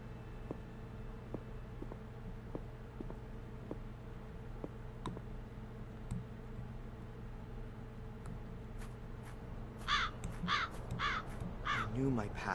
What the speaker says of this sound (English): The bird has the tile.